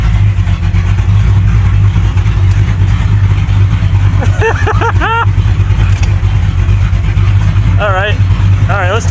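A home-built vehicle fitted with a Temu carburetor runs its engine while driving, a loud steady low drone throughout, with excited voices talking and exclaiming over it.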